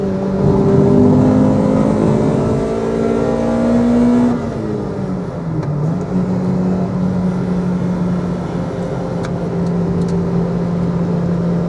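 A Honda Civic EK9 engine revs hard, then drops pitch sharply as the driver downshifts with a rev-matching blip before settling into a steady drone, loud and close from inside the car, no speech.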